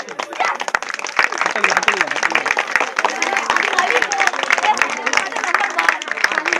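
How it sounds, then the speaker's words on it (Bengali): An audience at a Saraswati Puja and 23 January Netaji celebration claps in scattered, sharp bursts throughout, mixed under a person talking loudly over the crowd. "ওদের জন্য জোরে হাততালি।"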